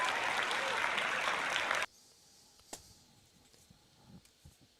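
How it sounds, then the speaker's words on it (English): Ballpark crowd applause at a Phillies–Brewers baseball game, a loud, dense burst that cuts off abruptly after about two seconds, leaving faint distant crowd murmur and scattered small knocks. "I kind of like the applause."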